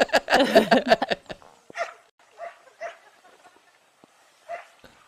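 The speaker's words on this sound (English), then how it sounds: "He's got a wet dog on a trampoline." A wet Samoyed dog on a trampoline lets out a quick burst of close, loud barks and yips, then several shorter, softer whimpering yelps spaced out with quiet gaps between them.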